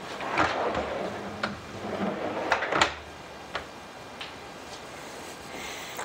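Wooden dresser drawer pushed in along newly installed drawer slides, heard as a few scattered knocks and thumps with soft sliding scrapes over about six seconds, fairly close and alone.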